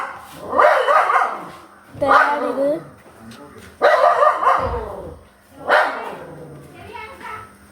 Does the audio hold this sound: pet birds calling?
no